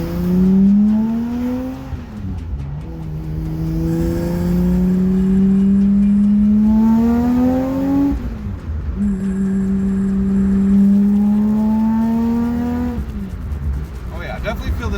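A Subaru Impreza with a swapped-in H6 engine, lightweight flywheel and new transmission drones loudly from inside the cabin, revs climbing steadily in repeated pulls with a dip at each gear change.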